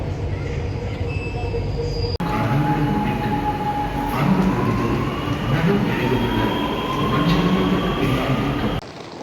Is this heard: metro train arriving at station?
yes